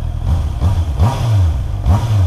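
2021 Honda CB650R motorcycle engine running close by, revved in several rising and falling bursts over a steady idle rumble, loud and unaccompanied by talk.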